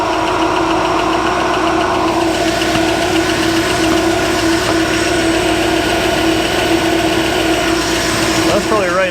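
A 1955 Chevy Nomad engine idles at about 900 RPM, running steady and loud with a constant low rumble and hum throughout, while voices speak over it.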